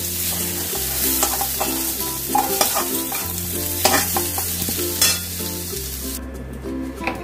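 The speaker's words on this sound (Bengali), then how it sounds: "দেখো এঁচড়গুলো খুব সুন্দর করে আমি ভেজে নিয়েছি।" Young jackfruit pieces fry in a wok with steady sizzling broken by repeated scraping stirs, loud and close, with no talk.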